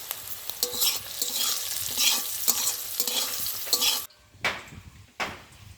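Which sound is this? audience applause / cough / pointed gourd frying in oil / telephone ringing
pointed gourd frying in oil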